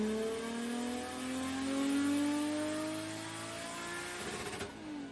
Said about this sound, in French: avec le nouveau collecteur elle fait un bruit de dingue